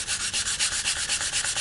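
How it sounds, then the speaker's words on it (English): Rhythmic scraping of sandpaper rubbed back and forth over a small piece of polymer clay, about a dozen quick even strokes, close up. "And I will just start sanding like so."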